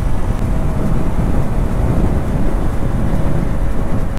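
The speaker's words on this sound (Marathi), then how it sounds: "पाऊस आला." Heavy rain pouring during a motorbike ride on a wet road, a loud, dense, continuous wash of drops and rumbling wind buffeting the microphone, no voices.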